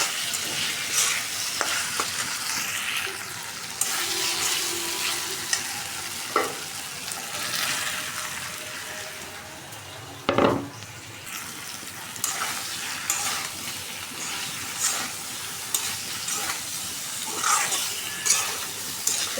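Potatoes and eggs stir-fried in a pan, a steady close sizzle with scraping stirs and occasional spatula knocks against the pan throughout, no talking.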